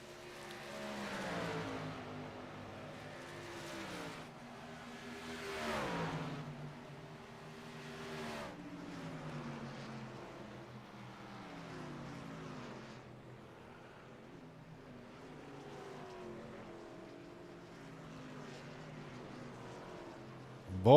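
Racing trucks run laps at Mosport, engines rising and falling as they pass close by, with shifting pitch sweeps over a steady road-course roar and no talk.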